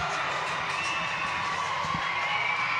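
Arena crowd at a college gymnastics meet cheering a perfect 10 floor score, a sustained roar of whoops and shouts that stays broad and steady, heard from a distance rather than up close.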